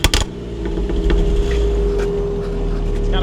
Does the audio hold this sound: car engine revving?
yes